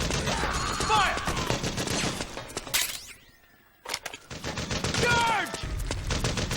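Heavy gunfire in Metal Gear Solid 4: dense bursts of automatic shots and loud blasts fill the opening seconds, break off into a near-silent lull, then return in another sustained barrage, with shouted voices mixed through the fighting.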